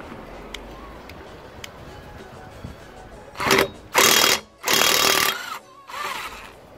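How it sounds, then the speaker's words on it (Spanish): A TECCPO TDIW01P 350Nm cordless impact driver loosening a tight nut fires in four loud, close bursts of rapid rattling hammer blows, each lasting under a second, after a quieter stretch of faint handling clicks and room noise. "hace como unos pequeños golpes que hace ta ta ta ta ta ta. Entonces eso es que está aflojando la tuerca"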